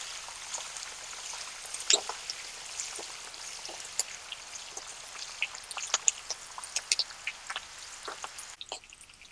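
Green chillies, dry red chillies and curry leaves fry with peanuts in oil for amla pulihora, a soft steady sizzle broken by scattered crackles and pops throughout.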